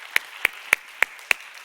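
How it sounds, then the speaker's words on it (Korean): A church congregation at a youth worship service claps in unison, five sharp, evenly spaced claps in a steady rhythm over a quiet background. "박수 한번 치겠습니다."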